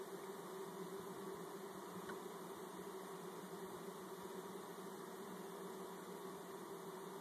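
Bees buzz in a dense, continuous hum while being installed into a hive, a steady swarm drone heard alone at low level throughout.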